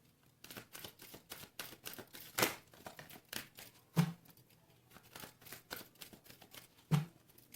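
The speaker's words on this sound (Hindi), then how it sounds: "This is my last shuffle." Tarot cards being shuffled by hand during a reading: a quiet, steady run of soft riffling flicks with a few sharper snaps and slaps standing out, close and alone with no talking.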